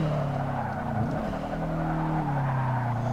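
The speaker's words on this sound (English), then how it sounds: "I do have the traction control turned off, so you should hear some wheel spin happening." Subaru WRX with traction control off in the Forza Motorsport 6 racing game, a continuous engine drone under tire squeal and skidding from wheel spin, with the pitch dipping and rising again, loud and close.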